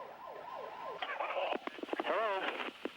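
A wailing volunteer ambulance siren sweeping up and down, then breaking into faster yelping warbles amid other emergency radio-like sounds, moderately close.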